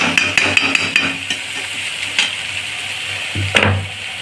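Jackfruit curry with salt cooks in a pan, a soft frying sizzle under repeated clinks and scrapes of a spoon stirring against the metal, with a cluster of knocks at the start and another sharp scrape near the end.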